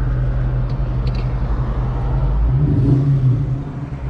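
A 1998 Mustang Cobra fitted with a Kenne Bell supercharger drives on a road test, its engine giving a loud, steady low rumble from inside the car with a brief swell of revs near the end, with no talk.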